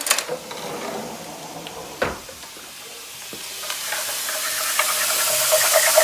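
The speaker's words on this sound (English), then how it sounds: "And we want these to fry for just a little while, for just like 2 minutes." Vegan gluten-free crab-style cakes fry in a hot pan, a bright sizzle that swells and hisses louder toward the end, broken by a couple of sharp clinks of a spoon against the pan.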